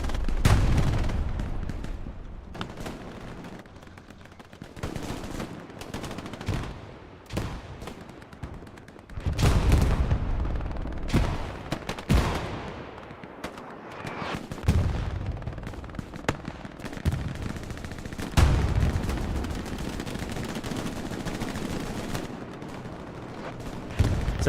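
P-strike air strike in the video game Hell Let Loose during a competitive match: heavy explosive bursts and rattling gunfire erupt repeatedly over about 25 seconds, some blasts sharp and close, others rumbling and more distant.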